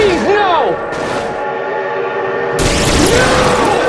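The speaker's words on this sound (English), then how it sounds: "Oh my god, train!" A train in the BeamNG driving game blasts its horn as it approaches, a loud, sustained wailing tone with shifting pitch over heavy rumbling rail noise, with a voice shouting over it.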